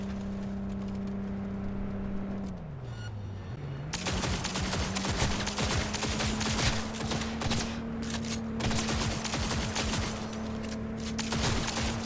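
Automatic gunfire crackles in a Cyberpunk 2077 firefight, a loud, dense stream of rapid shots over a steady engine-like drone that dips in pitch before the shooting starts.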